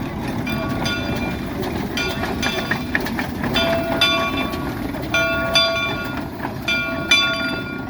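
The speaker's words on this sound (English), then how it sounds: "The Shays are a very unique locomotive." Shay steam locomotive No. 2 on the Cass Scenic Railroad, a geared logging engine, rolls past with a steady loud rumble, rhythmic wheel clatter and squealing metallic tones, with no voices.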